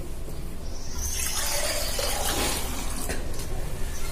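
Water pours steadily and loudly into a vessel being filled for a jal neti nasal rinse, a continuous gushing fill lasting about four seconds with no speech.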